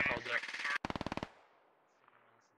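Rapid automatic gunfire in Squad, a close burst of evenly spaced sharp shots that cuts off abruptly and leaves a faint rumbling tail and distant noises.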